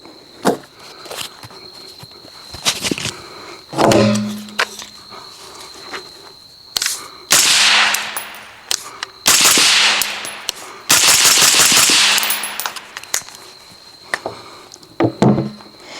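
A 5.56 rifle firing Dillon ammunition from a 12.5-inch upper outdoors, with several loud, sharp shots at spaced intervals, plus scattered clicks and handling noises in between.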